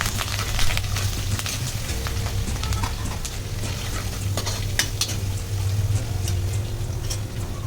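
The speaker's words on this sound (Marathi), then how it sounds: "आता हे तेलामध्ये सगळे चांगले परतून घ्यायचे आहे." Garlic, green chilies and curry leaves sautéing in hot oil, a loud continuous sizzle broken by frequent scraping and clinking from stirring, with no speech.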